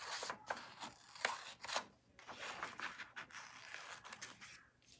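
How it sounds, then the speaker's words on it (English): Paper being cut out by hand for a homemade pop-up card, with soft, close scissor snips and rustling paper in short repeated strokes, quiet and without talk. "So I'm just going to cut this out."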